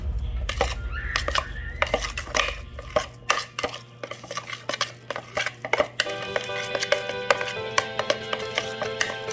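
Ground beef mix being tossed with seasoning in a bowl makes close clinks, scrapes and soft knocks of a utensil against the dish in an uneven rhythm, with a low hum under the first few seconds.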